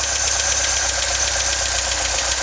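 A VW Vanagon engine idles at a steady, even rhythm with a knocking pulse, close and loud, alone without any talking.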